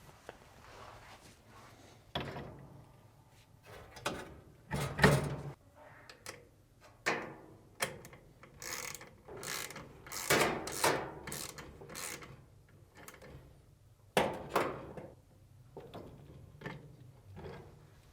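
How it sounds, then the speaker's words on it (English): Wrench tightening a reverse-thread nut on a Samsung dryer drive motor shaft, heard as scattered close metallic clicks, ratcheting scrapes and rubbing bursts separated by quiet gaps. "reinstall the reverse thread nut by turning left or counterclockwise and tightening down while holding the rear of the shaft with an adjustable wrench"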